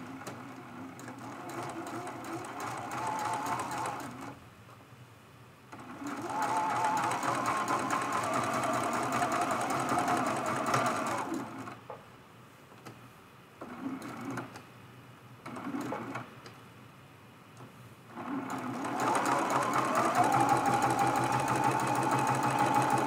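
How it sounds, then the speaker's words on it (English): A sewing machine runs a straight stitch along the edge of quilt fabric pieces, whirring steadily in long bursts with brief pauses between runs, close and clear with no talking. "I'm going to do a straight stitch right on the edge and sew these two pieces down to one another."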